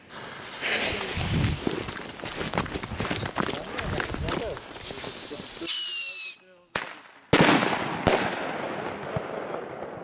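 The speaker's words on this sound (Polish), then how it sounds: "Petarda C4 i singiel" A C4 firecracker and a single firecracker go off outdoors during New Year's Eve fireworks: crackling, popping bursts, then a hissing fuse and several sharp, loud bangs with short echoing tails.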